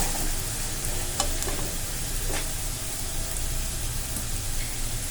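Kashmiri red chili powder being stirred into masala frying in a pan over a medium flame, giving a steady, close sizzle with scraping stir strokes throughout, and no voices.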